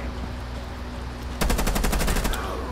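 In a video game, automatic gunfire rattles out in a rapid, loud burst of about a dozen evenly spaced shots partway through, breaking an otherwise quiet ambient stretch.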